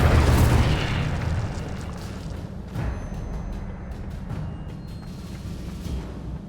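An Incendio fire spell blast in the video game Hogwarts Legacy, a heavy booming burst that fades into a crackling, rumbling tail, with a second softer thump partway through.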